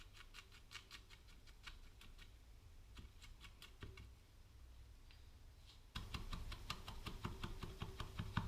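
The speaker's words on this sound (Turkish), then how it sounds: "Bakın incecik kıyıyorum." Peppers being finely chopped with a knife on a cutting board for şakşuka, quick light rhythmic taps in bursts, growing louder and closer toward the end.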